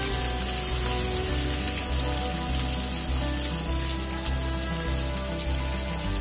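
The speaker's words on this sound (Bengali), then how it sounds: "তেলটা গরম হয়ে গেছে, আমি এখন মাছ দিয়ে দেব" Rui fish frying in hot oil for a Bengali fish kalia, a steady, dense sizzle that stays loud and continuous with no talking.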